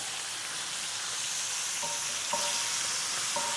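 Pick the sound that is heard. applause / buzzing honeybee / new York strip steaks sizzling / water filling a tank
new York strip steaks sizzling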